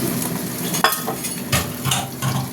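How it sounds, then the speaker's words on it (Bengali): Boiled bottle gourd tipped into a hot frying pan, a sudden wet splash and burst of sizzling followed by a few scraping stirs against the pan, near and fairly loud. "এই যে লাউ সিদ্ধ করা হয়েছিল, লাউটা ঢেলে দিলাম"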